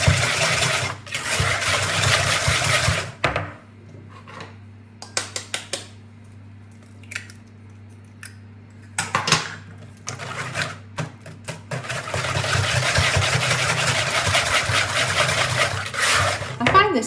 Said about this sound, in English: whisking until it's incorporated.